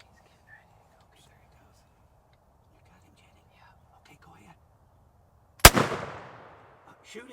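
A single sharp, loud shotgun-style blast fired at a wild turkey during a spring hunt from a blind, ringing off after quiet whispering and stillness beforehand.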